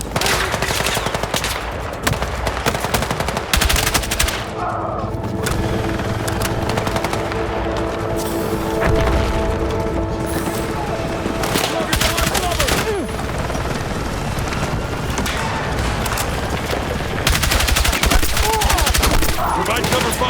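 Dense gunfire in the Battlefield 6 video game, rapid machine-gun bursts and overlapping shots in a loud continuous fusillade, with battle noise and occasional voices underneath.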